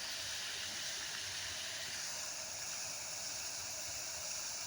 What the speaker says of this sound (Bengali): পানির খুব সুন্দর আওয়াজ।